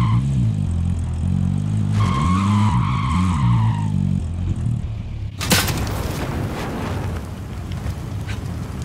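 A car in a first-person shooter game takes off loudly with a long whining tire skid, then a sudden booming burst gives way to rough roaring engine noise.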